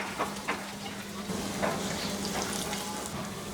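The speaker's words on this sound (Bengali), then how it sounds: "দিয়ে একটু ভেজে নিব রসুনটা বাদামি হওয়া পর্যন্ত" Chopped garlic fries in oil over medium heat until it browns, making a continuous moderate sizzle with a few soft stirring clicks and a low steady hum beneath.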